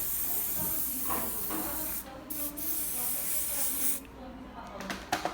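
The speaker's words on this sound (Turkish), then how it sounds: "Aldığımız yerdeki firketeleri son kez bir sprey sıkıyoruz." Hairspray hisses from a can onto a finished low hair bun, a close, steady spray lasting a couple of seconds with brief pauses, while someone talks over it.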